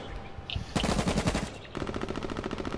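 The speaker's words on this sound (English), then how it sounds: "Just shot Gibby." Video game gunfire in Apex Legends, rapid automatic bursts rattling close and loud, one dense volley followed by another fast rhythmic string of shots, with no voices.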